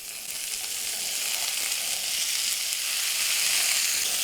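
Green beans hit a hot pan of rendered bacon, raising a bright, steady sizzle that swells slightly louder over a few seconds, close and unbroken by talk.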